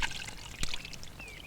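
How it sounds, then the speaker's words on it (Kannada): Water is poured in a short splashing stream, close and moderately loud, with a sharper splash partway through and a faint trickle after. "ಸರ್ ಸರ್ ಸ್ವಲ್ಪ ನೀರು ಹಾಕಿ ಸರ್."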